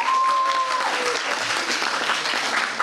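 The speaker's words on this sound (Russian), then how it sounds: "Аплодисменты" Brief, full applause from an audience at a quiz show for a schoolgirl's English diploma; close, dense clapping that runs steadily for a few seconds.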